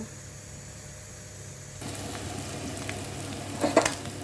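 Oil sizzling in a hot kadai as fish goes in to fry for an Assamese fish and bottle gourd dish, a steady hiss that swells partway through with a few brief louder crackles near the end.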